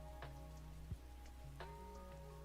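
Rain in the video game SpiritCity: Lofi Sessions, a soft, steady patter that stays quiet beneath mellow sustained musical tones throughout.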